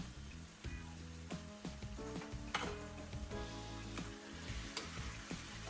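Seafood sizzling and frying in a stainless steel or non-stick pan while being stirred, for a creamy seafood Alfredo pasta, with steady close sizzle broken by repeated clinks and scrapes of the utensil.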